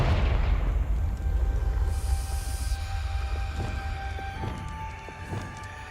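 A Confringo fire spell blast in Hogwarts Legacy lands as a deep, rumbling boom with a roaring low-end wash that slowly fades over several seconds, with faint magical tones lingering above.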